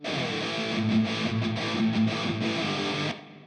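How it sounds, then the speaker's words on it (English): A heavily distorted black metal electric guitar tone rings out in sustained, gritty chords, loud and alone, cutting off abruptly near the end. "here are all the different guitar tones that I was messing with"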